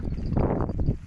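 Hooves of a small goat on a farm for sale clop softly in a short irregular run, close by, over a low rumbling background with no talk.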